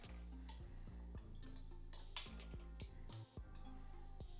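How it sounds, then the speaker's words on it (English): A cocktail with club soda stirred in a container, with a quiet run of rhythmic ticking and clinking as a spoon taps against the sides, faint and steady. "And we're gonna give this a stir."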